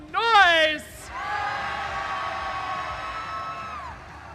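Blue Alliance spectators at the Bordie Blast 2024 robotics competition answering a call to make noise, with a brief shrill whoop up front followed by a long, wavering held cry over the crowd, moderately loud and somewhat distant.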